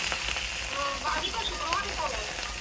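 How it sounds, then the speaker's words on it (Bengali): Fish pieces lightly frying in hot oil in a home kitchen, a steady soft sizzle and crackle throughout with faint background voices underneath. "প্রতিটি মাছ হালকা করে ভেজে নিচ্ছে"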